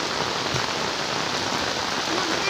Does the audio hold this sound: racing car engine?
no